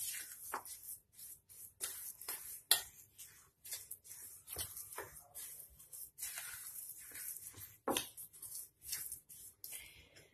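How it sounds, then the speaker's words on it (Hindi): Spice masala for a red chilli pickle is mixed in a bowl, making soft, intermittent scraping and tapping strokes, quiet and close, with gaps of near silence between them. "अच्छे से सारा मसाला मिक्स कर लीजिए।"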